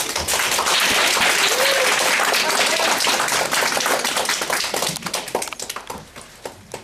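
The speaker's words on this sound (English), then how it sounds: "please join me in a round of applause" Lunch-and-learn audience applauds steadily for several seconds, dense and even, then the clapping thins into scattered claps and fades out. A few faint voices come through beneath the applause.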